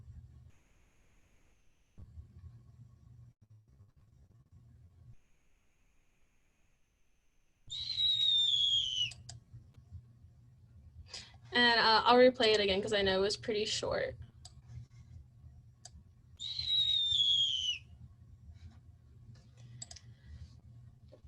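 Recorded owl calls play back, with a pair of short descending whistled hoots, then a dense burst of rapid clicking, chattering trills, then another whistled hoot, alone with no talk over them, above a low steady hum.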